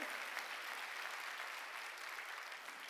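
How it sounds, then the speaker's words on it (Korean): Steady applause from a church congregation during a Sunday worship service, a dense, even wash of clapping that fills the whole stretch with no voices over it. "박수로 하나님께 영광을"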